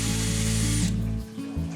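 A power drill drives screws into wood while assembling a lounge sofa built from used tires, a loud continuous whirring buzz that runs steadily, drops off briefly, then kicks back in near the end.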